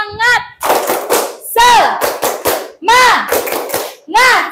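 A seated group in an Indonesian teacher-training session claps a rhythmic cheer pattern in sharp bursts, mixed with loud chanting voices between the claps.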